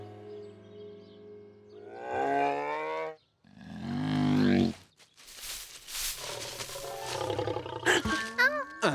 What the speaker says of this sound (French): Un ours en chair et en os?